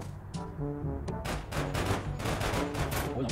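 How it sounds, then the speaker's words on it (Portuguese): Dense bursts of rapid game gunfire with sharp cracks, continuous and loud, over a low droning musical background. "o tiro não tá pegando"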